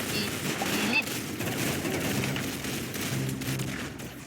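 Rapid Mac 10 submachine gun fire in Call of Duty, a dense continuous burst of shots in a busy game mix with faint background noise, no talking.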